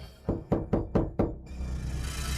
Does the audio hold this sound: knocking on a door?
yes